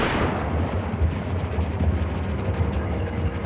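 Underwater jetpack thrusters from the video game Anthem, a dense, low, rumbling roar with rapid bubbling pulses, loud and continuous without any talking.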